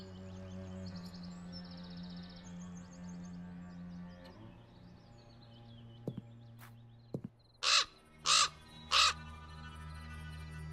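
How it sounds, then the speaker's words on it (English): A raven in the video game Black Mirror 2 gives three loud, harsh caws in quick succession near the end, following a low ambient drone and a few soft knocks. "The raven flew out of a crack in the rock."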